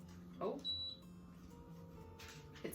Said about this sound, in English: it's beeped, so it's already up to, I was about to say up to speed, up to temperature